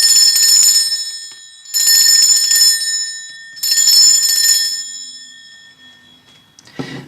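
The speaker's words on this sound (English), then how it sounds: "I'm going to be ringing this lovely little bell over here." A small bell rung for space cleansing gives three bright, shimmering strikes, each ringing out for about a second before the next, close and fairly loud with long metallic overtones.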